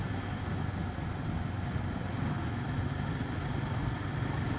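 A Royal Enfield Himalayan 450 with its single-cylinder Sherpa engine drones steadily and evenly throughout, a continuous low rumble from the ride.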